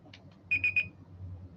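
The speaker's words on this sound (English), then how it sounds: "All right, let's start the timer." A digital timer gives three quick high electronic beeps as it starts, quiet and close, with faint room noise behind.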